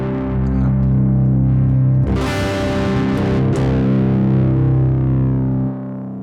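Electric guitar through a Hotone Heart Attack distortion pedal with the bass turned down, gain low, playing sustained raw distorted chords with a strummed burst mid-clip, loud and alone, ringing out before cutting off near the end.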